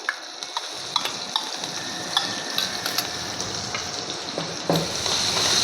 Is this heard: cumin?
yes